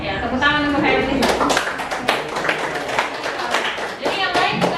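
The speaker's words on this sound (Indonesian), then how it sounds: "ya tepuk tangan untuk Hairunisa" Scattered hand clapping from a classroom of students applauding a classmate during a lesson, with a teacher's voice and children's speech running over and between the claps.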